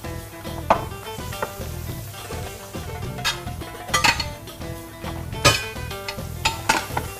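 Sauce for tajine el beraniya, an eggplant tajine, is stirred in a tajine pot over a sizzling background, with repeated sharp clinks and scrapes of a utensil against the pot and no voices.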